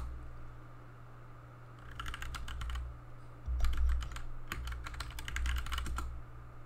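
Someone types a terminal command on a computer keyboard during a Python install on Ubuntu Linux. Two quiet bursts of rapid keystrokes play over a low steady hum, the second burst broken into short clusters, with no talk.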